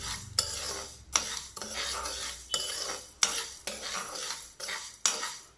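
Horse gram dry roasting in a pan over a slow flame, stirred with a utensil that scrapes and clatters against the metal in repeated strokes roughly every second, fairly close with no talking.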